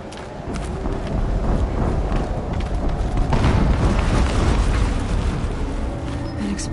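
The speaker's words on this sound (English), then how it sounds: "An explosion." A video game explosion produces a dense, rumbling roar with deep booming low end. It holds loud and steady for nearly seven seconds with no clear pauses.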